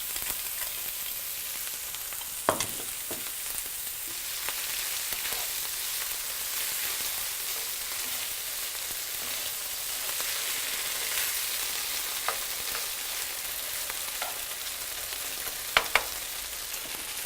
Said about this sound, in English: now we're going to add our tomato paste and just fry it with the meat